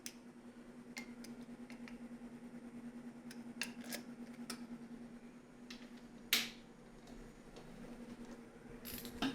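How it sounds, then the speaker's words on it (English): A swivel-head ratchet tightens bolts while a CNC servo motor is being replaced. It gives scattered quick clicks and a few sharper metallic snaps, fairly faint, with no voices. "The swivel head ratchet makes it really nice."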